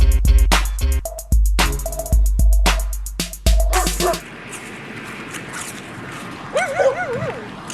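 Dogs at a dog park bark and yip in loud, sharp bursts for the first four seconds, then give way to a quieter outdoor bed with a few whimpers and whines near the end.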